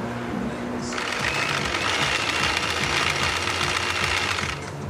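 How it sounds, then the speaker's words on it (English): A small one-handed reciprocating saw with a very short oscillating stroke runs continuously for several seconds while cutting during a Bronco windshield removal, a loud steady buzzing whine that starts after a brief pause and stops near the end. "It's a reciprocating saw, but it's a, it's small. You can use it with one hand."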